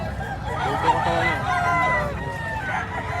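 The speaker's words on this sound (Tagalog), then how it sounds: "Isa sa pinakamagandang manok na nakita natin dito." Roosters and chickens at a poultry market in Padre Garcia, Batangas, making overlapping crowing and clucking calls nearby over a busy background murmur.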